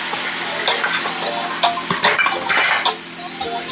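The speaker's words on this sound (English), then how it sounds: "So I put half cup of water in mine" Half a cup of water goes into a pot of cooking cabbage for corned beef and cabbage, a loud hissing sizzle with clattering and stirring, close up, fading after a few seconds.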